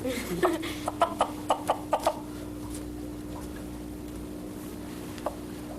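A wild chicken clucks in a quick run of about six short, fairly close clucks early on, then falls quiet apart from one faint cluck near the end over a steady low hum.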